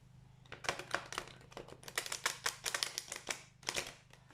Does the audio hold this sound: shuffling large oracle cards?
yes